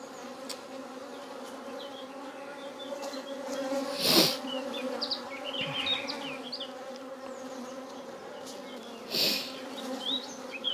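Honey bees hum in a dense, steady drone close by in an open, busy hive, with individual bees buzzing past and a couple of brief louder bursts.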